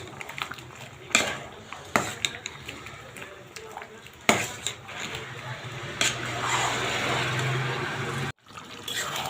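Coconut paste being stirred into beef tripe in a pan, with scraping, clattering utensil hits against the cookware and a soft wet mixing sound, moderately close, under a low background murmur.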